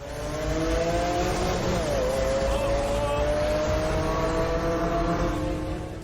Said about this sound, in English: This is how BMW E36 drives.